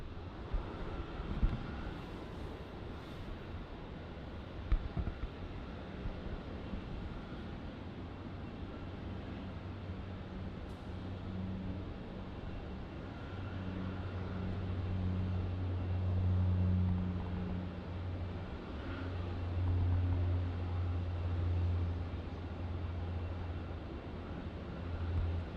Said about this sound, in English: we have our next takeoff here. The Rex Saab ZL 3513 going to Devonport in Tasmania.